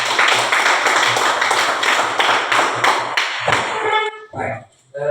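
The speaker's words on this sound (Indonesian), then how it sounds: "mari kita beri tepuk tangan untuk kelompok" A class claps for a group of students in a quick, evenly spaced rhythmic pattern of sharp strokes that stops abruptly, followed by a few voices.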